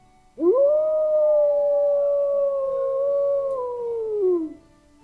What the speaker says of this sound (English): when the night falls, I play a wolf howling sound with the position being in a random angle